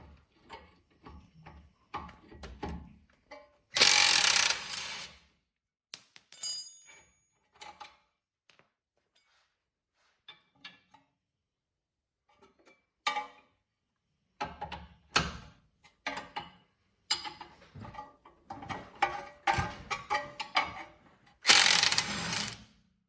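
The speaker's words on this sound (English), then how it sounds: "I'm using a 19 on the nut wrench." A ratcheting wrench on a 19 nut gives rapid clicking in short bursts separated by quiet pauses, close by, with a few louder metallic clanks in between.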